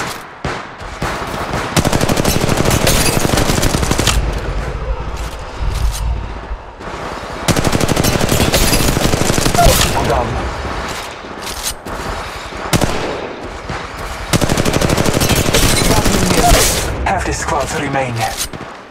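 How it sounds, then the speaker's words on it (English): Sustained automatic weapon fire in the mobile battle royale game Apex Legends, long loud bursts of rapid shots broken by brief gaps, with game voice lines speaking over the action. "Battling the enemy. I'm taking fire."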